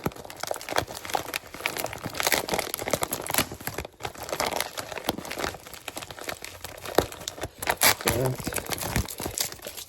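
A heavily taped package is torn and wrenched open up close, with bursts of crinkling, ripping tape and rustling packaging and a voice talking intermittently.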